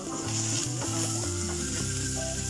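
Onion and garlic sauteing in a pan for chicken afritada, with a steady close sizzle and light stirring scrapes, heard alone without talk.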